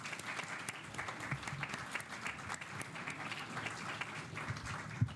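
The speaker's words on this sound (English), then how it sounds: "Let's give them a round of applause" Steady applause from an audience at a school board meeting, honoring students who led the pledge; a continuous, fairly soft wash of many hands clapping throughout, slightly distant with no voices standing out.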